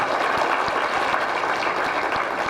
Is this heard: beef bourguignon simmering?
no